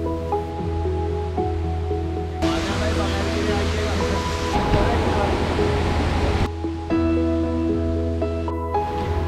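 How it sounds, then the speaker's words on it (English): Rushing water at a waterfall along the Cabot Trail, a steady broadband roar swelling loud through the middle of the clip, with tonal music playing at the start and end. "We spent good amount of time at waterfall."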